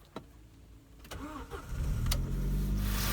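A 2006 Audi A4 Quattro engine cranks briefly after a fresh battery install, then catches and settles into a steady, loud idle rumble, with a couple of clicks beforehand.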